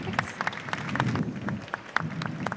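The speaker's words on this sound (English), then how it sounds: "Round of applause." Scattered applause greets a speaker taking the stage at an architecture awards talk, with distinct individual claps over a murmuring room, moderate in level and fairly sparse.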